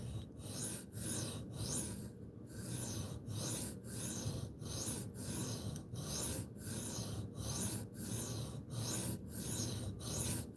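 A knife being sharpened on a 7 to 8 inch whetstone, with close, rhythmic rasping strokes repeating about every half second in a steady back-and-forth pattern.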